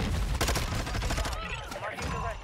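Gunfire rattles through a Fortnite match, a dense burst of shots and distant crackling shooting that continues for a couple of seconds, mixed with game noise.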